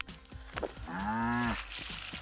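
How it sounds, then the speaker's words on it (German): Cattle in the Staxel farming video game give a single drawn-out moo, clear and fairly close against quiet game ambience. "Ich mag Kühe."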